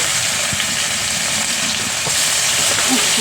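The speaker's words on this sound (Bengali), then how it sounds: "পেঁয়াজ কুচি দিলাম" Chopped onion fries in hot oil with dried red chilies and cumin for a Bengali rohu fish curry, a dense, loud, unbroken sizzle heard close up with a few faint knocks.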